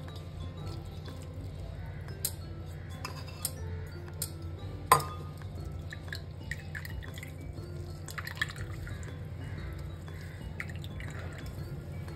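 Juice strained through a sieve for kadhi drips and trickles faintly into a bowl, with scattered soft clinks of utensils against a vessel and one sharper knock over a quiet low hum.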